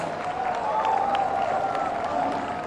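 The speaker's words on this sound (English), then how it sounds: "let's give them a big round of applause" Crowd applause at a cultural performance event in Nagaland, a sustained, even wash of clapping and crowd noise with a faint tonal hum running beneath it.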